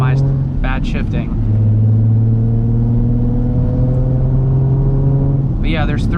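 A Nissan 350Z HR with a Tomei exhaust pulls hard from inside the cabin. The engine drone climbs in pitch, dips at a gear change and climbs again, with brief vocal bursts at the start and end.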